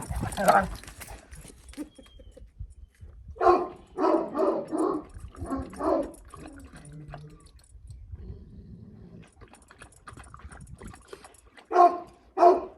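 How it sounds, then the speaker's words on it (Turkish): A dog barks in a run of sharp, close barks, then goes quiet with whimpering before two more loud barks; a person talks early on. "Sus bezmedin bezmedin havlamaktan."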